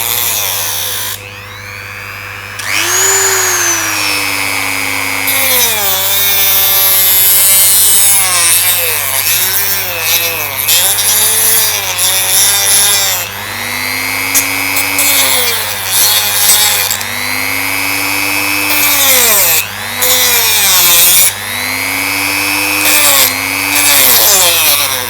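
Small handheld power tool cutting a piece off a chrome key accent for a Honda GL1800 Gold Wing motorcycle, a continuous loud whine rising and falling in pitch as the blade bites and eases, no talking.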